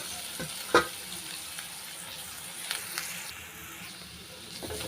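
Onions and a handful of grated coconut sauté in a pan with a quiet, steady sizzle and a few faint clinks of stirring.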